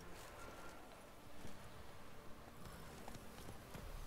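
Horse hooves clip-clop in The Witcher 3: Wild Hunt, a faint, uneven run of soft thuds near a village over quiet ambient game sound.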